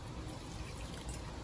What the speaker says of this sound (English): you can go ahead and pour them in here